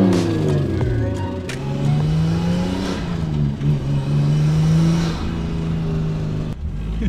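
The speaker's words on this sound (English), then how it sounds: "Today we've buttoned up the loose ends and are going to take it for its first test drive" A Nissan Skyline R34 fitted with a 350Z manual transmission drives on its first test run, its engine droning and revving loud and close, with pitch rising and falling through gear changes.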